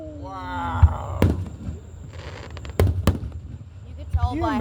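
Fourth of July fireworks in Marianna, Florida pop and crack in several sharp bursts, some with whistling rising tails, while spectators talk and exclaim nearby over the show.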